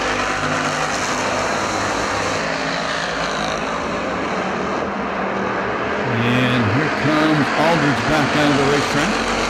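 Street stock race cars roar around the dirt oval at Perris Auto Speedway during a main event, a loud, continuous engine drone with one car's rising and falling pitch standing out near the end.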